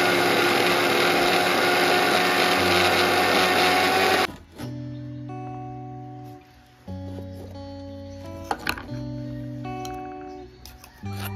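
A kitchen mixer grinder whirs loudly while blending dry chutney made from roasted dried Bombay duck, then stops, and a quieter stretch of tonal electronic hum follows.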